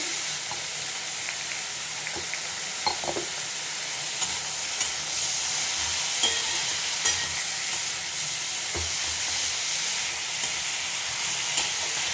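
Snake gourd pieces frying in a pan with salt and turmeric, a constant loud sizzle and hiss with occasional sharp scrapes and taps of a stirring spoon, no voices.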